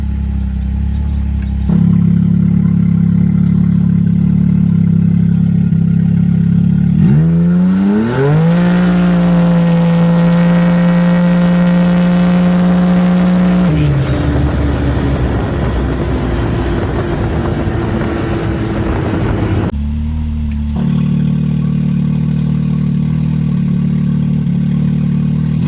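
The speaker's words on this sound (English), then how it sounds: "here's one run with exhaust open, Eric not in the car with me." Car with a cat delete and an electronic dump valve held open idles with a deep drone, then revs hard and climbs through the gears with a loud, raspy exhaust note before dropping back to idle.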